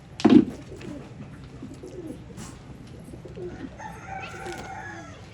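Old line pigeons coo in soft, low repeated phrases at a bird market, with a loud knock near the start and other birds calling faintly in the background.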